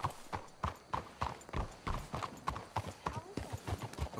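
Horses' hooves clip-clop in a steady, close rhythm in the Red Dead Redemption 2 video game, with faint snorts between the hoofbeats and no talking.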